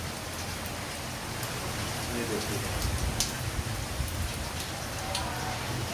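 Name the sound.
heavy morning rain in Karachi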